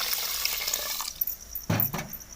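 Water poured from a cup into a pan holding sugar to make syrup: a steady splashing trickle, then two brief louder gushes near the end, close up.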